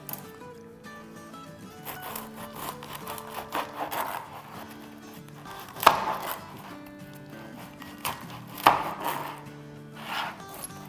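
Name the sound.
knife cutting bread slices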